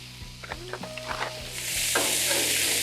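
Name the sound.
frozen corn sizzling on Blackstone griddle with bacon oil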